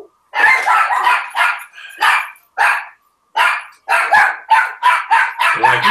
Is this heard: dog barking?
yes